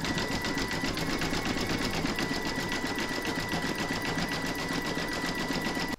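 An embroidery sewing machine stitches a zigzag round up a pumpkin stalk in an in-the-hoop stacked pumpkin project, its fast, even mechanical whirr steady and close throughout, then stopping abruptly at the end.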